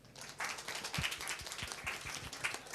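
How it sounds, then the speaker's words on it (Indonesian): Applause from an audience at a psoriasis awareness session in Kalimantan, a steady patter of clapping hands lasting a few seconds, moderately loud and fairly dense with scattered sharper claps. "Tepuk tangan buat kita."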